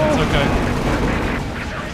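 Nebelwerfer rocket artillery firing in a video game, a sustained rumbling roar of launches and blasts that fades slightly toward the end.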